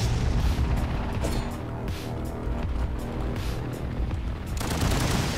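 Missiles blowing up in the action game Katana Zero, a steady roar of booms and rattling blasts layered thick and loud without pause.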